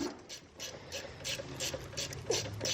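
A ratchet wrench works loose a 12 mm caliper bolt on a 1991 Honda CRX brake, its quiet, rapid clicks repeating in short bursts over a low background hum.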